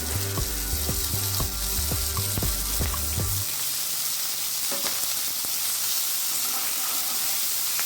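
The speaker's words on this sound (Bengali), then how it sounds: "এবার দিয়ে দিচ্ছি চিকেন আর লঙ্কা কুচিটা" Chicken and chopped green chilli fry loudly in hot oil in a pan, a dense steady sizzle and hiss with a few rhythmic clicks early on, close and continuous with no talking.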